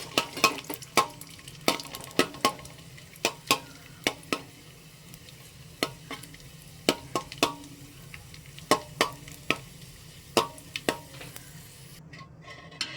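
Raisins dropped into a pan after frying coconut pieces, for a varikka jackfruit payasam, with sharp spatula clicks scraping the pan in an irregular rhythm over a soft, steady sizzle, close and clear with no talking.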